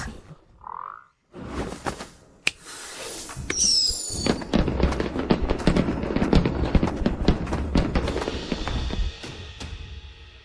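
Fireworks in an animated fantasy series: a rising whistle, then a dense run of sharp crackling pops and bangs that keeps going, loud and close, with no talking.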